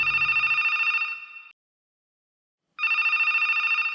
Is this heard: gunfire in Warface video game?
no